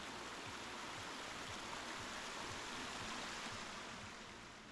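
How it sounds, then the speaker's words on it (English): Steady rushing creek water pours continuously over rocks at a campground in Booderee National Park, a dense, even hiss with no voices, fairly quiet and unchanging. "This creek is running right through the campground"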